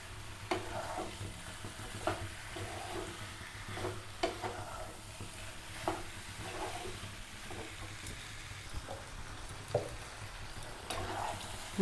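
Pointed gourd and potato masala sautés in a pan, giving a soft, fairly quiet sizzle with regular scraping stirs every second or two.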